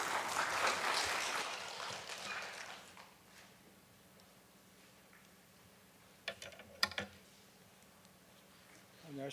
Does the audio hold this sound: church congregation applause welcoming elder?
yes